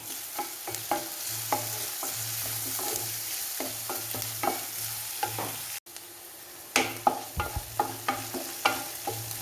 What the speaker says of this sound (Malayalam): ഇത് പെട്ടെന്ന് വഴന്ന് വരട്ടെ